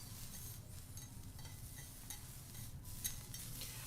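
Spring onions fry in a pan with a steady close sizzle and crackle throughout, and occasional faint scrapes of stirring come through over it.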